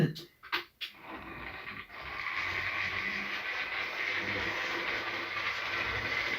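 A smoking, overheating model railway locomotive runs noisily on its track, a steady mechanical whirr and rattle that settles in after a few sharp knocks and clatters at the start.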